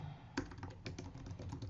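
Fingers typing a zip code on a computer keyboard: a short run of light, quick key taps, close and quiet, with one slightly harder press near the start.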